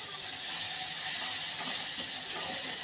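Crushed garlic, coriander and asafoetida sizzling in hot oil, a continuous bright hiss with faint crackles, steady and close throughout.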